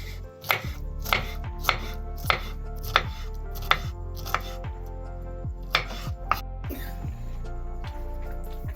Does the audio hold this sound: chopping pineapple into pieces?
yes